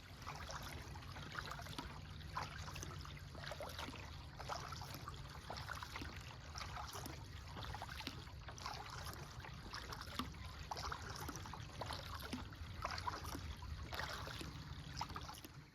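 Kayak paddling on Toledo Bend at Patroon Creek on a morning outing, a steady low wash of water with soft trickles and dribbles from the strokes, fairly close and continuous, with no talking.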